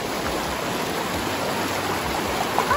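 Fast-flowing river water rushes in a steady, loud, broadband roar that stays constant throughout, with no voices.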